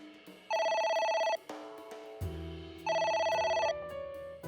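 A phone ringing in the video game AI The Somnium Files: two loud bursts of a trilling electronic ringtone separated by a pause, over lower synthetic game tones.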